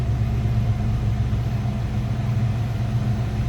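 A 1986 Ford Mustang GT convertible's 5-liter V8 runs steadily at idle, a close, continuous low rumble with an even throb and no voices over it.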